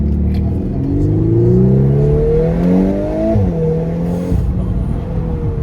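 A Volkswagen Golf 8 R accelerates hard through first and second gear, its engine note climbing loudly, dropping briefly at the upshift, then rising again, close and continuous with no talk.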